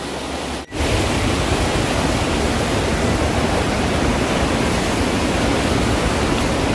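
Steady, dense rush of the Cipeles River flowing past the riverside village of Rancaniti in Sumedang. The sound is loud and close, cut off by a brief dropout near the start, then continuous with no voices.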